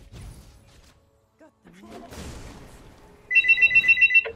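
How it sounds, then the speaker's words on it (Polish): A phone rings near the end in a rapid burst of bright electronic trills, following a stretch of faint League of Legends game sounds and muffled voice. "Oj, telefon."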